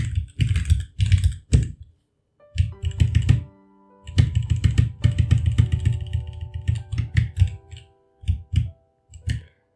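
Rapid computer keyboard typing while an fstab file is written during a Gentoo Linux install, bursts of close, crisp key clicks with short pauses between runs, no voices.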